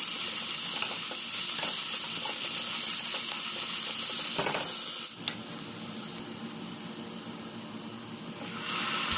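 Chopped large onions sauté to a light golden colour in a pan with a constant, fairly loud sizzle and the occasional scrape of stirring, with no speech.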